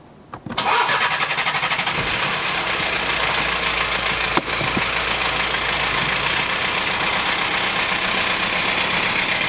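A car engine cranks and catches, then runs loud and steady close by on a short test drive, with a sharp knock partway through and no voices.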